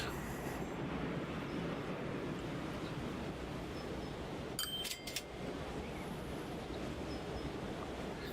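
Trains run on the tracks in the Transport Fever game, a faint, steady rumble of rolling wagons with a brief metallic squeal midway.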